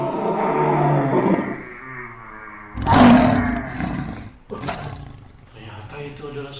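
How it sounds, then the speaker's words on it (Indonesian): A lion roars loudly several times in close succession, deep, rough bursts swelling and fading, with a voice-like tone across the stretch and no words over it. "suara binatang singa adik-adik."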